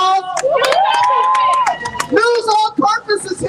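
Loud, close shouting and cheering from a rally crowd, with scattered sharp claps mixed in as media guests are acknowledged. Voices dominate throughout, and the clapping stays uneven and brief.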